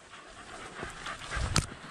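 A rabbit-hunting dog pants in the Virginia woods, soft quick breaths that are fairly faint and close.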